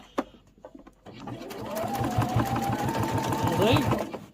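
A sewing machine stitches across a beginner cross-body sling bag, a quick steady mechanical chatter starting after a brief click and running continuously, close and fairly loud.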